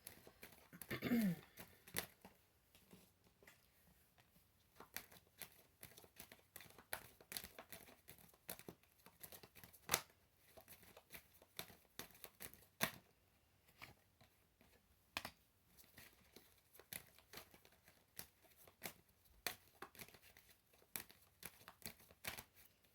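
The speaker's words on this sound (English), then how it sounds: "Let's pull 3 more cards." Tarot cards being pulled and shuffled: a string of quiet, close flicks, riffles and papery taps scattered irregularly, with a louder crinkle near the start, no one speaking.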